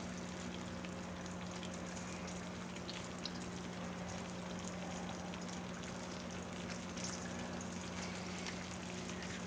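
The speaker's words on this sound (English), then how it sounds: "As it frying away, yes, I cook in butter." Soft, steady sizzle of eggs frying in butter in a pan on a stove, with faint pops and a low constant hum underneath; no voices.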